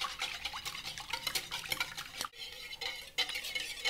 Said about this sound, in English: And I'll just whisk these up together.